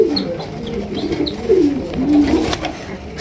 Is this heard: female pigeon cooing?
yes